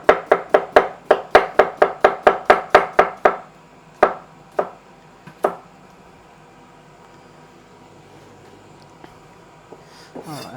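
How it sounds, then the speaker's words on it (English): Knife slicing through a small Persian cucumber on a cutting board for a salad: a quick, even run of about a dozen crisp chops, then a few scattered slower cuts before going quiet, close and clear. "next up, we'll do some cucumber. So I'm gonna do some slices for my salad."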